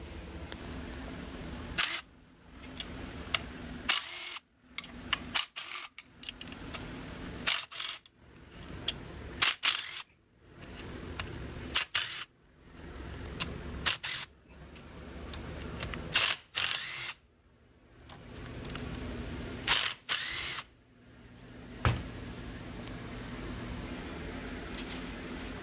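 Ratchet work loosening bolts on an 18–27 hp Briggs & Stratton engine during a governor gear repair, heard as repeated bursts of close mechanical clicking separated by short pauses, with no talk.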